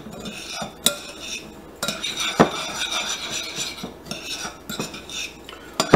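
Crushed Oreos and milk being stirred in a bowl, a utensil clinking and scraping against the dish in repeated close strokes, with a few sharper knocks.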